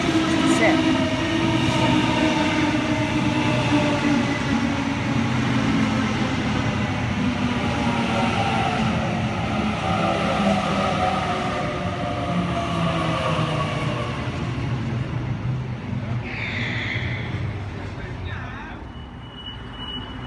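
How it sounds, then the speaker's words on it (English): A Sydney Trains passenger train on the Leppington service pulls away from platform 2 at Yennora station, giving a steady, loud rumble with rising motor whine that carries through the whole stretch and fades slightly at the end. "A60 now departing platform number 2, Leppington service."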